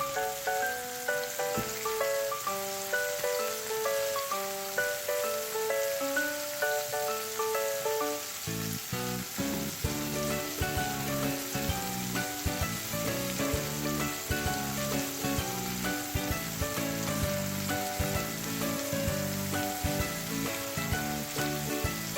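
Paneer cubes frying in a pan, a steady, close sizzle and crackle of hot oil that continues throughout, with faint music playing underneath.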